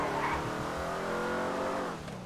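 A Z-Type car in the racing game GTA 5 Online roars at steady high revs, a loud continuous engine drone with faint tire noise, briefly easing off near the end.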